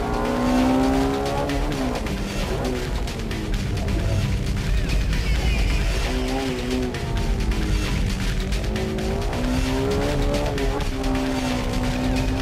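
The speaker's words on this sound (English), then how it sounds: "He showed us some serious driving on the tight turns by using first gear at corner exits" A Honda Civic Type R EK9 race car driven hard through tight corners, its engine loud and steadily revving with rising and falling pitch as it holds first gear out of each turn, close and continuous throughout.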